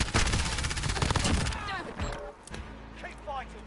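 Call of Duty multiplayer gunfire, a dense, loud burst of rapid automatic shots that fades after about two seconds into scattered distant game noise, with voices heard in the background.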